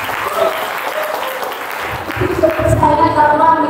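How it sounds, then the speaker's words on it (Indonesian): An audience claps at an Indonesian Islamic event session, a dense burst of applause that swells toward the end while a voice talks over it. "Tepuk tangan bagi Indonesia"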